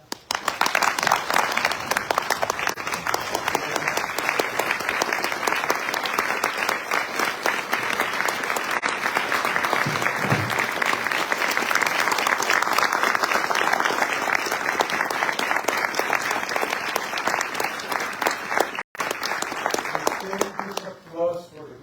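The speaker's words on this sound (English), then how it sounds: "may we applaud the President" A formal gathering welcomes the President of Costa Rica, Rodrigo Chaves Robles, with sustained, loud applause. The clapping is thick and continuous for about twenty seconds, with a brief dip near the end as it starts to fade.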